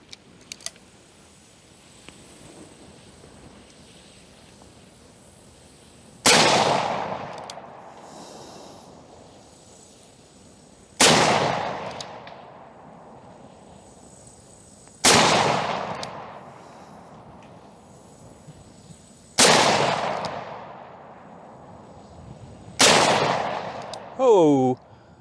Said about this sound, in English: let me see if I can actually hit those jugs with the Ruger Vaquero